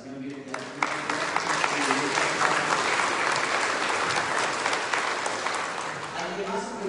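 A church congregation at a Spanish-language Sunday Mass breaks into sustained, dense applause that fills the room, with a voice speaking briefly before it builds and as it fades.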